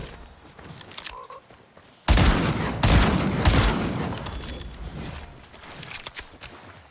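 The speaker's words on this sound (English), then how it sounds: "They were shooting at other people," Fortnite gunfire in a squads match: a sudden burst of rapid shots, then a second sustained volley of crackling fire that fades slowly, fairly loud and close, with no talking.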